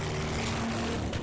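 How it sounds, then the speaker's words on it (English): A car drones steadily at the Bug Jam festival drag strip, its engine note shifting slightly as it goes in and out of gear, loud and close with a sustained low hum. "you can hear Sam's car going in and out of gear"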